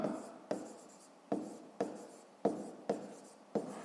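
Pen or marker writing a number by hand on paper during a fifth-grade maths lesson, a series of sharp scratchy strokes roughly every half second, close and fairly quiet, with no talk.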